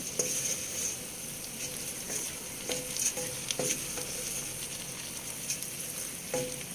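Soaked basmati rice is stirred in a pot for chicken biryani, with scattered scraping strokes of the spoon over a steady soft sizzle, no talking.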